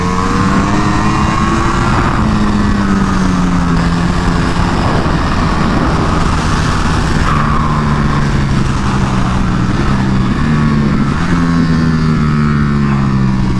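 A 2022 Aprilia Tuono V4 1100 Factory motorcycle accelerating hard on a track, its V4 engine roaring loud and close with rising pitch sweeps as it climbs through the gears, continuous and uninterrupted.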